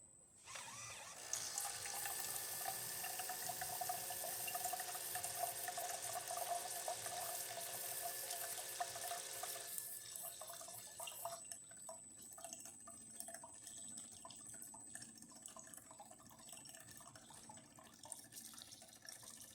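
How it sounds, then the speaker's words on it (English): A Jura E8 coffee machine, just serviced and tuned up, dispenses hot water in a steady hissing, splashing stream for about ten seconds, then the flow thins to lighter trickles and drips into the cup. "let's test the hot water"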